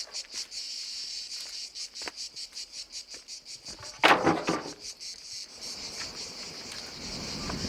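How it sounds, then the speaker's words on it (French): Cicadas buzzing in a pulsing, rhythmic chorus on an island, steady and fairly close, broken once by a short sharp clatter before the insect drone carries on alone. "Moi, ça me va, j'aime bien le chant des cigales."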